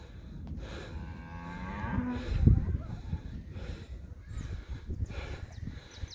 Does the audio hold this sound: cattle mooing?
yes